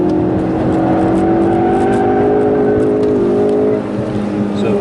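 A 2016 Ford Focus RS engine at wide open throttle, heard from inside the car as a loud, steady, droning roar that eases slightly near the end.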